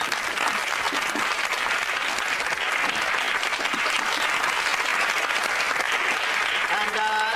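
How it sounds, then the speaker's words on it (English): An audience claps for Dale in a steady, dense round of applause that carries on at an even level, with voices audible beneath it. "Round of applause for Dale."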